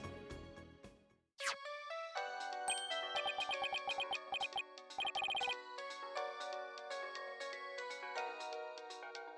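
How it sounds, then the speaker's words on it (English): A bright electronic phone ringtone in the video game Phoenix Wright: Ace Attorney – Spirit of Justice plays a chiming, melodic pattern of repeated notes, loud and clear with no voices over it. "What a ringtone."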